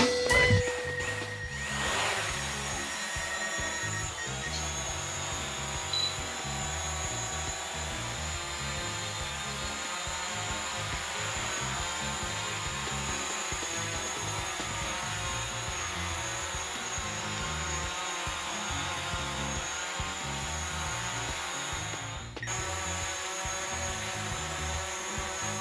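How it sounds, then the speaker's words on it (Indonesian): A DJI Mavic Pro drone fitted with low-noise propellers flies nearby, giving a steady, moderately loud whirring hum with a high whine that holds evenly throughout, alone with no talking. "Kali ini gue mau terbangin Mavic Pro dengan sayap yang versi low noise propellers."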